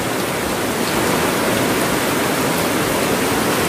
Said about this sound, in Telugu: ఇటు మున్సిపాలిటీ వాళ్ళు కట్టిన గోడ దుబ్బడం ద్వారా నీళ్ళు మొత్తం నిండిపోతున్నాయి